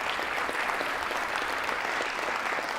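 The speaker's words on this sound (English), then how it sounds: "I just want to give you another round of applause" A crowd at a Clinton Library event gives a round of applause, dense even clapping from many hands, steady and sustained without break.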